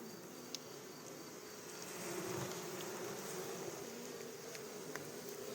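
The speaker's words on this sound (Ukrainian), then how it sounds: "Бджоли багатенько." Steady, dense buzzing of a honey bee swarm hums throughout, swelling slightly midway, with no voices.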